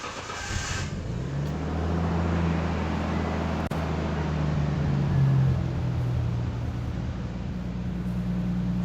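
A 1989 Nissan Skyline GT-R with an HKS Super Dragger exhaust silencer and a rear muffler idles at close range, making a steady low, throaty rumble. There is no talking.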